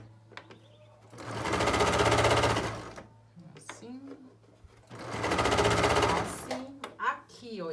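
A domestic sewing machine stitches a fold of fabric in two steady whirring bursts of a couple of seconds each, close and clear, while someone speaks between the runs.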